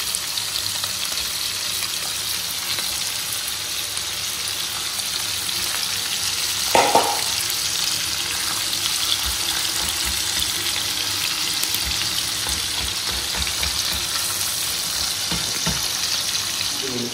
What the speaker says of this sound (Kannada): ಬೇಗ ಫ್ರೈ ಆಗ್ತದೆ